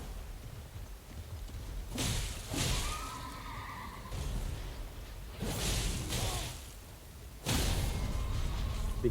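Horse neighing in the Elden Ring video game, a whinny rising among whooshes and combat noise, with a loud impact near the end.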